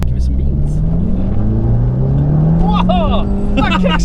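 An Abarth 595 engine revs hard under acceleration, a rising drone that climbs steadily in pitch. It is heard from inside the car, with people talking excitedly over it.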